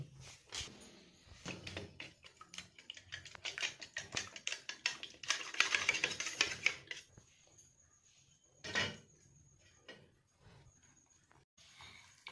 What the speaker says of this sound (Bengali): খুব ভালো করে ডিমটাকে ফেটিয়ে নেব।